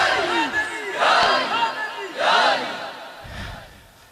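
A crowd at a religious mehfil-e-milad gathering shouts slogans in loud, rhythmic bursts, several voices together, with brief lulls between each roaring chant.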